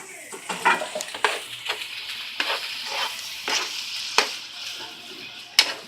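Ground beef frying in hot oil in a pan for a homemade hamburger helper, a steady close sizzle broken by repeated stirring scrapes and clinks, with no talking.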